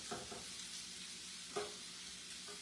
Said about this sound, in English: So right now I've got onions and bacon in avocado oil, smoked sausage